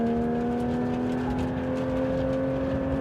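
A Porsche 911 GT3 RS engine accelerates hard on a runway with a loud, steady high-revving whine and strong harmonic tones, close and continuous, without talking.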